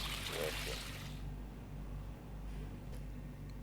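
Water flows out of four outlets with a steady pouring rush that fades after about a second, then a faint trickle continues under a low hum and some talking.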